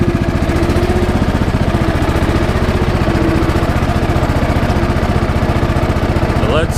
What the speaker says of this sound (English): Turn the engine a little bit quieter so you can hear me